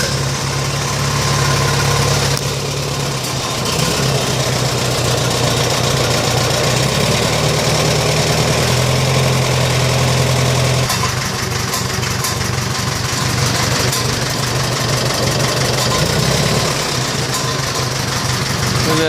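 A restored tractor engine idles cold, not yet warmed up, its steady low rumble loud and close for the whole stretch, with the pitch shifting slightly partway through as the throttle is nudged; no one talks.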